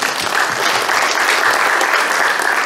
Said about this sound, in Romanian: vă rog să aplaudăm Raionul Iloveni